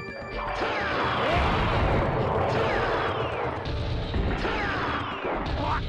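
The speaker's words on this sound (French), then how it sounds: "le mec il me tire des missiles quoi" Missiles fired and exploding in the PlayStation fighting game Ehrgeiz: a continuous barrage of loud crashing blasts and booming impacts with whooshing streaks layered over dense rumbling game noise.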